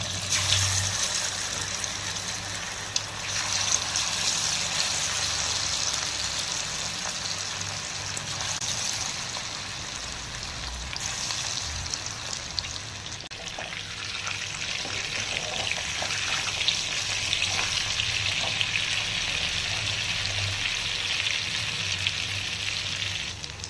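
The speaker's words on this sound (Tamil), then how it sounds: "இப்போ நம்ம 65 பொரிக்க ஆரம்பிக்கலாம்." Chicken 65 deep fries steadily in hot oil, a continuous bubbling hiss with occasional crackles, close by and without talk.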